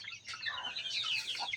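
Several native chickens cluck and chatter close by in a backyard coop, a busy overlapping flock sound with soft background noise.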